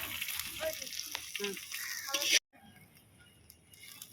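Sliced onion sizzles and crackles in a hot frying pan with occasional small ticks and pops. The steady hiss cuts off abruptly partway through, leaving a quiet background.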